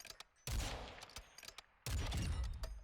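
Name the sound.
sniper rifle rapid fire in a Call of Duty video game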